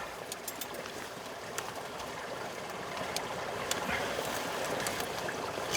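Water runs through a beaver dam with a steady, soft rushing flow and small trickling splashes, fairly quiet and alone.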